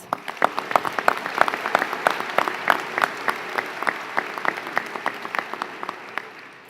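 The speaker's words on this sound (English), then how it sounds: "Please give them a round of applause." Graduation ceremony audience claps at length, a dense steady applause from a large crowd with sharp individual claps standing out close by, gradually thinning toward the end.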